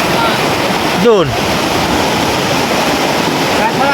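Ocean surf rushes and washes continuously and loudly near a swimming spot at the shore, with a voice briefly calling out over the steady roar of the waves.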